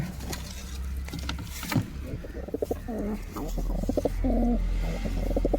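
Pigeons coo in soft, low repeated phrases close by while someone talks over them, with a steady low hum underneath.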